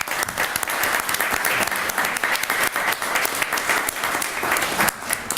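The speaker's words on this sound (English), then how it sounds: "You guys really did a great job today, and you deserve a round of applause." A room full of students at a student government day bursts into a sustained round of clapping that carries on steadily, close and fairly loud, for several seconds.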